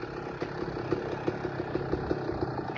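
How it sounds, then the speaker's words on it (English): A motorcycle engine idles with a steady, low, rhythmic putter, running continuously without revving. "this motorcycle is pretty loud"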